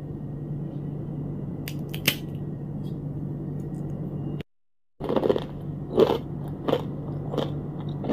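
Crisp mung bean peyek crackers crunched close up, with several sharp bites and snaps spread through the clip over a steady low background hum, a short silent gap partway through.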